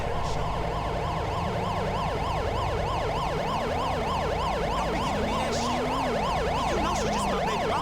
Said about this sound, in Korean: Ambulance. Assistance required in Pacific Bluff.